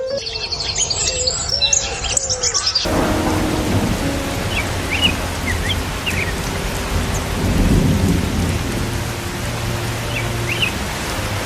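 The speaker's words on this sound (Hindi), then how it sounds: "ये बारिश अभी ही शुरू होना था, उड़ा भी नहीं जाता है।" Heavy rain pours steadily in a cartoon scene, with deep rolling thunder rumbling underneath and a few bird chirps above, after a brief burst of other sound at the start.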